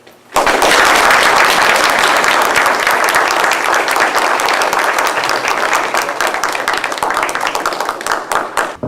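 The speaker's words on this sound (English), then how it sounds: "Please give a round of applause to Officer Frank Macri." A large crowd at a high school honors ceremony applauds loudly and steadily, the clapping fading slightly toward the end.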